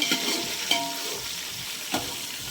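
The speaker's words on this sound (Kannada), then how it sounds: "ಎಲ್ಲ ಮೆಂತ್ಯ ಸೊಪ್ಪೆಲ್ಲ ಎಣ್ಣೆಲಿ ಫ್ರೈ ಆದಮೇಲೆ ಟೊಮೆಟೊ ಹಾಕ್ಕೊಳ್ಳೋಣ" Fenugreek leaves sizzle steadily as they fry in oil, with three or four sharp scraping stirs of a spoon in the pan and no voices.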